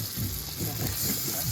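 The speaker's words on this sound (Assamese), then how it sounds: "তাৰ ওপৰতে পিঁয়াজ দি দিয়া হৈছে পিঁয়াজ দি এনেদৰে লৰাই থাকিব লাগিব" Meat and onions sizzle and fry in a pan while being stirred, a steady close hiss with soft scraping, cooked for a shared meal at a New Year's Eve party.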